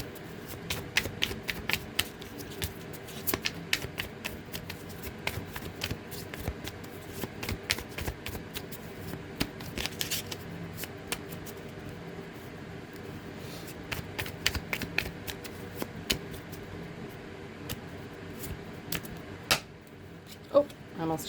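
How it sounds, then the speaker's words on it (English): Repeated riffling shuffles of a tarot card deck, close and crisp, with brief pauses between bursts and faint speech underneath. "Get a good shuffle."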